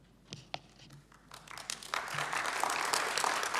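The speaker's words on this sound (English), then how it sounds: "We should give you a clap, Dave" An election forum audience starts with a few scattered claps that quickly swell into full, steady applause from the room.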